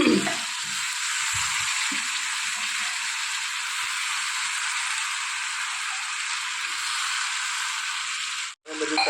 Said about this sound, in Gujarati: સાથે સાથે ડુંગળી બટાકા નાખી દઈએ.